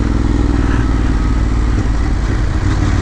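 A Ducati Monster 821 motorcycle engine drones loudly and steadily up close, a continuous throbbing rumble with no break and no voices.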